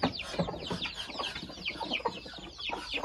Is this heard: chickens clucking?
yes